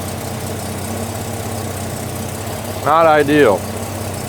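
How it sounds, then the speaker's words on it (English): The engine of a worn Turbo Buick Regal idles in a steady, low rumble with a faint tonal hum throughout, close and continuous. A person speaks briefly over it near the end. "Let her idle then. Okay, don't touch the throttle."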